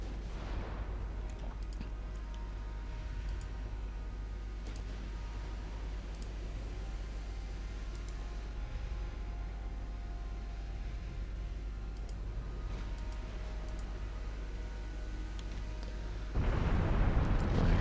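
Naval guns on warships fire over a steady roar of sea and engine noise in Ultimate Admiral Dreadnoughts, in a 1922 US battle with cruisers and battleships. Distant booms come at irregular intervals, and one louder blast closes the stretch.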